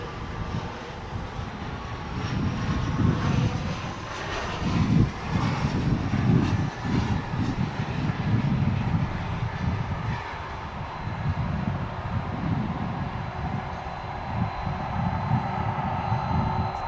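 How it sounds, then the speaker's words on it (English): An American Airlines Embraer 175 jet taxis at DFW airport with a sustained engine roar and a faint whining tone above it, rising and falling gently as the aircraft rolls along nearby. "Embraer 175 there on the left side of your screen."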